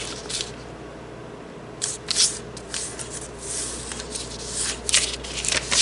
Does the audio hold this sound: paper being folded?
yes